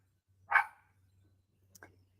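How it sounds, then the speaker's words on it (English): A female dog gives one sharp bark out the back door of a house. The bark sounds a little distant, with a faint low hum and near-silence around it. "She's barking out the back door."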